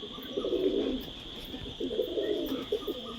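Domestic pigeons, a local desi bird and a female Punjabi pigeon, cooing in two low rumbling bursts close by, with a steady high background hum.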